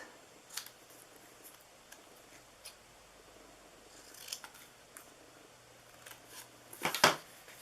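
Scissors snip through vellum paper while a Christmas treat bag is made. A few sharp, separate cuts stand out against a quiet room, and the last one near the end is the loudest.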